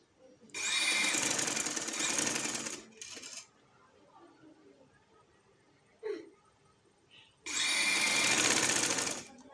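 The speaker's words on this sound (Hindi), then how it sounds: "इसको नेक को इस तरह से फोल्ड करके एक इसके किनारे पे सिलाई लगानी है" Sewing machine stitching along the folded edge of a garment neckline in two loud bursts of fast, buzzing stitching, separated by a quiet pause with faint handling clicks.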